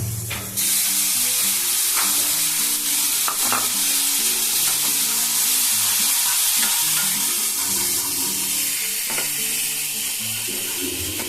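A spice paste of ground ginger, cumin and green chili, with coriander powder and turmeric, fries on a medium flame, giving a steady loud sizzle with repeated stirring scrapes throughout, no voices.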